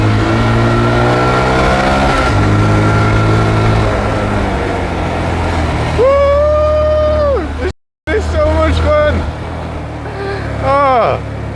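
A Honda Grom motorcycle engine revs and climbs up a hill in Thailand, a steady loud drone with rising and falling pitch sweeps as the rider shifts and accelerates, cutting out briefly before pulling again, with speech over it.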